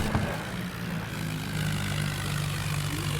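Two tractors straining together at raised power, their engines holding a steady, loud low drone with a rumbling harmonic throb that runs continuously throughout.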